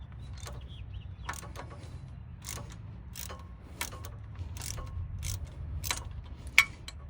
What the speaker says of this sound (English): you'll be able to get you a socket and ratchet on it